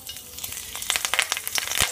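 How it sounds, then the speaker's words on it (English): Curry leaves hitting hot oil in a skillet over medium heat give a steady close sizzle with bursts of crackling spatter that grow busier toward the end. "Add our curry leaf to our oil."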